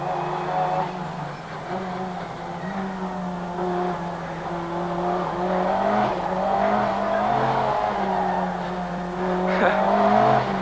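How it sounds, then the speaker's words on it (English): A 500-horsepower car snaps into oversteer with tyres squealing as its engine revs hard, loud and sustained, wavering in pitch through the corner. "To understeer into the corners and then snapping to oversteer when the brute power of 500 horsepower is applied."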